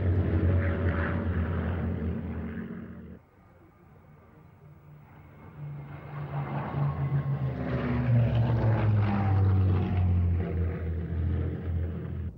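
A Messerschmitt Bf 109 propeller fighter plane's engine roars past at an air show at Duxford, droning steadily, dipping briefly then swelling louder again as it passes overhead.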